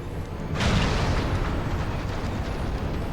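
A deep explosion aboard an airship as its main reactor is hit in Final Fantasy XIV Stormblood, bursting in after a brief lull and spreading into a sustained low rumble and crackling roar, loud and close, with no speech.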